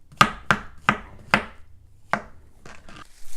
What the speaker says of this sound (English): now you're just gonna chop up some mushrooms